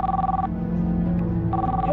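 A telephone rings late at night indoors, a close, warbling electronic ring in two bursts with a short gap between, faint voices murmuring underneath.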